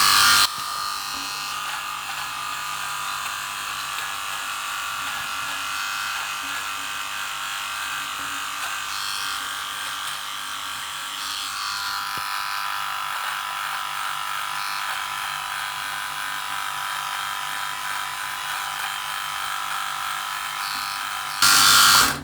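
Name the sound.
Philips 5000X shaver's attachable trimmer running with a rattly sound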